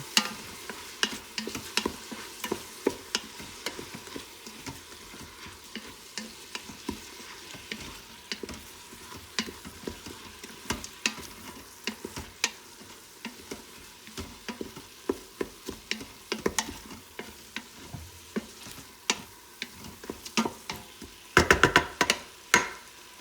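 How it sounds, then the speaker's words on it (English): Onions, garlic and ginger sauté in an Instant Pot for a vegan curry, a low steady sizzle punctuated by frequent sharp spoon taps and scrapes against the pot, with a louder cluster of clatter near the end. "after all the onions, garlic, and ginger have cooked down quite a bit"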